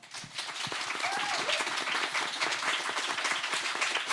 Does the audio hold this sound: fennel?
no